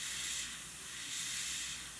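An airbrush spraying paint gives a steady, close, fairly quiet hiss that swells slightly twice over about two seconds, with no voices.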